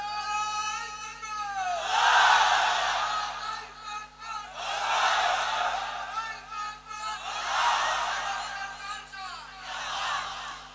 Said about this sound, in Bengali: ওই তুমি তাকবীর মারো।